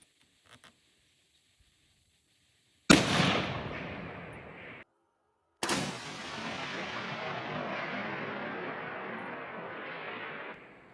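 Two loud, close gunshots from a .450 caliber gun crack out a few seconds apart, each followed by a long rolling echo across open ground.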